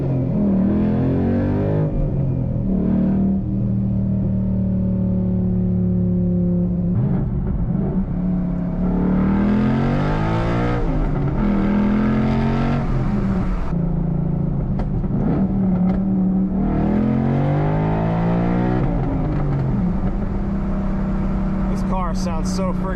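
A 2012 Ford Mustang Boss 302 with resonator delete, sidepipes and SLP Loudmouth axle-back exhaust revs repeatedly, loud rising and falling blasts with crackles between, the rumbling idle continuing close throughout.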